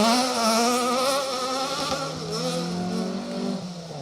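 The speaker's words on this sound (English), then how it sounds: "God, it does sound good at full chat, that Super 1600" A Corsa Super 1600 rally car at a historic rally festival stage revs hard at full throttle, its engine note rising and falling in sustained, loud howling sweeps as it works through the gears, with no talking over it.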